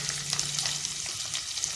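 Steady, dense sizzling of shallots frying in hot sesame oil with fenugreek for puli kulambu, close and continuous with crackling spatters throughout, no voices.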